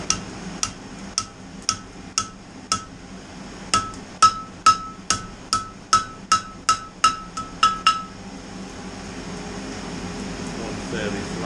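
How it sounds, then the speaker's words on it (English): A metal horseshoe clip being flattened on an anvil edge with a hammer, about fifteen sharp ringing blows at a steady rhythm, close and loud, then quiet room tone. "My first job is to flatten the clips out. Decent edge on the anvil there."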